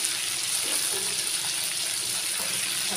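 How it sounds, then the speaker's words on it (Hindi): Chicken pieces fry in a pan with a dense, even hiss and crackle, loud and close, continuing steadily without pause or voices. "हल्का हल्का हम इसको भून लेंगे"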